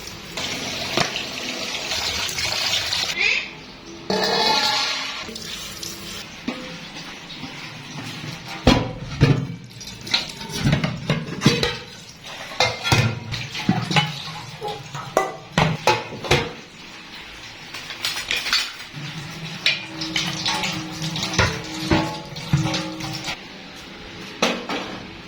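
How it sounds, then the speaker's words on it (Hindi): Tap water runs and splashes as food and spices are washed and rubbed by hand, with bowls and utensils clattering and knocking under the steady gush of water. "इनको अच्छे से धो लेते हैं और मसाले को भी साथ जो है ना धो लेते हैं"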